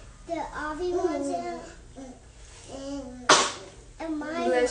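A single sharp sneeze bursts out among a child's and an adult's chatter, brief and close.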